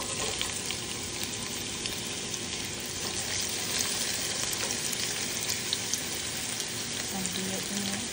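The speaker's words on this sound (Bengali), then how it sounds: "হালকা নেড়ে দিয়ে এখন পেস্ট দিয়ে দিব আমি।" Spice paste frying in a pan while being stirred, a steady close sizzle with scraping spoon movements running throughout, no voices.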